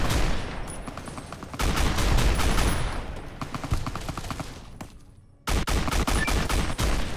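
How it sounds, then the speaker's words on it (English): A shotgun fires in the game Fallout New Vegas, with dense, loud volleys of shots running together in long stretches, then a brief drop before another sharp burst. "If my stupid shotgun didn't freeze my game every time I fired it"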